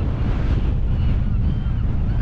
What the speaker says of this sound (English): Oh, that wind, the wind.